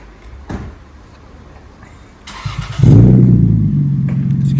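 A car's exhaust, fitted with a new Kraken PowerBomb muffler, idles quietly, then rises into a steady, louder rumble as the engine revs up nearby; no one speaks.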